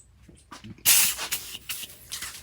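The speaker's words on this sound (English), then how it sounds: "But let's just give it a good spray." A burst of hissing foaming cleaner spray starts suddenly, followed by several shorter sprays in quick succession, close and fairly loud, in a small workshop.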